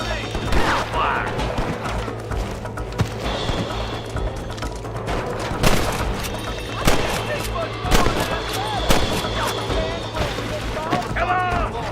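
Gunfire from a Red Dead Redemption western shootout, sharp shots and bursts cracking at irregular intervals over a steady low rumble, with voices talking and shouting in between.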